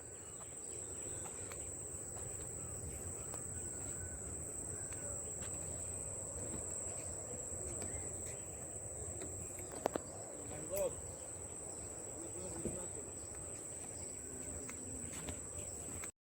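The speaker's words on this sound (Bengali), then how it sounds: "আর ঝিঝি আওয়াজ পাচ্ছ? আমি চুপ করে যাচ্ছি, তোমরা একটু শোনো।" A constant high-pitched drone of crickets chirping fills the background near mangroves, with soft rustling and a couple of faint taps.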